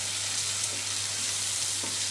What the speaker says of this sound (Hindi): बदल के इनको भूनना है